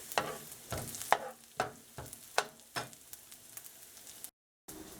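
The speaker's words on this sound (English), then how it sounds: "here I have put some coconut oil, and here I'm sauteing my garlic" Garlic sautes in coconut oil in a pan with a soft sizzle, broken by regular stirring scrapes about twice a second, close and fairly quiet, ending in a brief silence.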